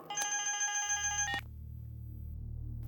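Telephone ringing indoors, a bright electronic ring sounding for about a second before cutting off, leaving a low background hum.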